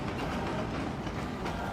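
A moving train in a vampire-shooting video game rumbles with a steady, dense rolling clatter and low engine drone, continuous and fairly loud throughout the short stretch without any talking.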